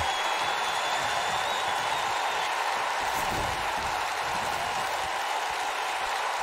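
A wrestling arena crowd in WWE 2K19 roars and applauds in a steady, dense wash of cheering that holds at an even level throughout, without any clear break.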